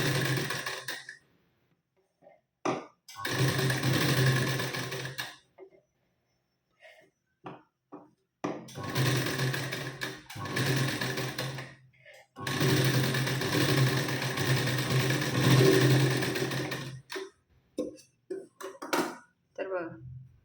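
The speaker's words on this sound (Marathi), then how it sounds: "पुन्हा त्यावर आपण डबल शिलाई देऊन घेऊ" A sewing machine runs a double line of stitching on a katori blouse in several bursts of a few seconds each, with brief pauses and small handling clicks between them.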